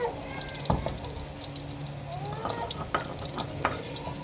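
Okra frying in ghee in a village kitchen, with a steady sizzle, occasional stirring scrapes and clinks of a utensil against the pan, heard up close.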